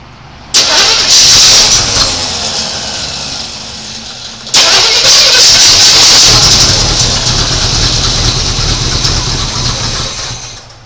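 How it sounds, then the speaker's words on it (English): 1986 Chevy C10 truck engine cranking, then catching twice in loud abrupt bursts that settle into a rough running roar, heard up close. "I just want to try to get it to run long enough to pull gas from the tank."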